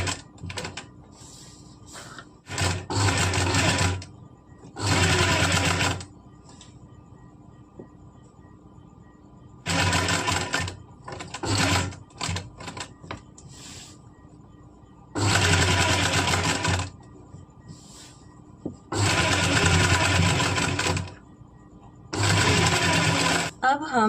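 A sewing machine stitches a collar onto a kurti, starting at the centre back, in several loud bursts of a few seconds each separated by quieter pauses with speech.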